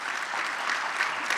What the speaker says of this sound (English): So let's do a round of applause for